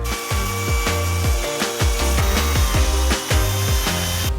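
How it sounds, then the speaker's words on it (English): Power sander working a piece of countertop wood, a loud continuous whine with rhythmic dips in pitch as the tool is pushed back and forth across the board, close and steady. "It's the same wood we're going to use for our countertops, so I'm going to sand it down."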